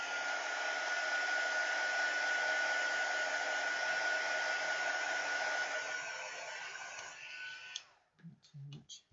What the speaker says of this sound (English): You could, if it's really wet, you can dry it with a heat gun.